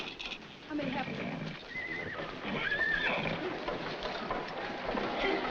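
Horses at a corral whinny and neigh beside dialogue, with a couple of shrill calls rising over the talk in old, muffled film audio.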